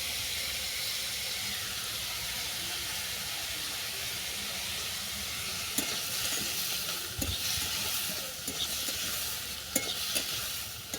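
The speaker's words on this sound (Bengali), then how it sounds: "শসাটাকে ভালো করে কষিয়ে নেবো যেন আদার গন্ধটা চলে যায়" Cucumber sautéing with ginger, turmeric and salt in a pan for a crab and cucumber dish, a steady hissing sizzle that grows busier later with clattering stirring strokes, close and without talk.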